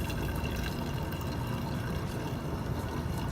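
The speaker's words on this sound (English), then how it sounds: "the liquid part of it that she's pouring back into the beaker" Liquid supernatant broth from a protein purification poured back into a laboratory beaker, a steady close splashing pour lasting a few seconds without speech.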